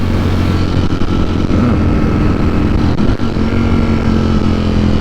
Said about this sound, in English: Engine braking feels really smooth and pleasant.